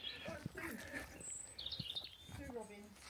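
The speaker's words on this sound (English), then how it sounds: "Oh, there's a robin." A robin sings faint, high chirping phrases near a homestead land clearance in Ireland, with soft background rustling and brief low sounds around it.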